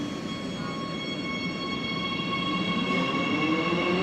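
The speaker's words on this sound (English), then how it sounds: "Siemens train pulling off." A Siemens metro train pulls away from a Warsaw Metro station, a steady rumble and whine with tones rising as it gathers speed, heard close on the platform.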